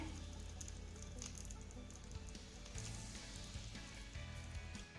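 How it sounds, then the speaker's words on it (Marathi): Crushed garlic cloves frying in hot oil until golden, a steady soft sizzle and crackle close by, continuous and fairly quiet throughout. "हा लसूण आपल्याला सोनेरी रंगावरती परतून घ्यायचा आहे"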